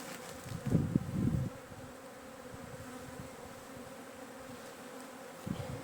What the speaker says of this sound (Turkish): Yandaki koloni muhtemelen bunu yağma yapıyor. Yahut da başka arılar da geliyor yağmaya.